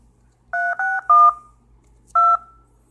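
Telephone keypad tones in the video game Sara is Missing: four clear beeps, three in quick succession, a pause, then a fourth, each a crisp dual-pitched tone over a quiet background.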